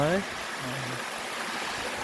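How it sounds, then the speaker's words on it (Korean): Rushing water from a small waterfall formed by rain near Girimsa temple in Gyeongju, a steady close hiss of flowing water, with a brief voice at the very start. "그 가는 도중에 비가 와서 잠시 폭포가 생겼습니다"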